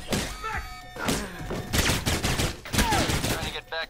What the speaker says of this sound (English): Love how I can do this while getting shot